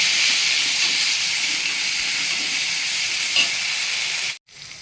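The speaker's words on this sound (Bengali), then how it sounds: "এবার দই দিয়ে এটাকে ভালো করে আবার আমি চাপিয়ে নেব।" Spice masala with yogurt sizzles loudly and steadily as it is stirred in a hot pan. A faint scrape of stirring sounds partway through, and the sizzle cuts out abruptly near the end.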